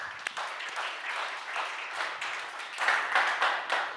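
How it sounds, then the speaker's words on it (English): Audience at a digital policy summit in Warsaw applauds, a moderate, somewhat distant wash of clapping that holds steady and swells slightly toward the end. "Applaud Katarzyna"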